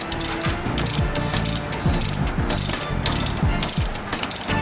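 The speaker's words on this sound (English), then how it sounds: "And then put the wrench on it." A wrench ratchets rapidly to tighten the chain on a fat sand bike, a close, loud run of repeated clicking strokes in an uneven rhythm lasting throughout.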